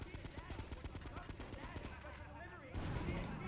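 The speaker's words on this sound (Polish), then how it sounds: "O nie, wybuch, już wybuchają" Rapid bursts of gunfire and explosions in GTA 3 crackle continuously, with a louder, denser blast swelling near the end; a voice talks over the action.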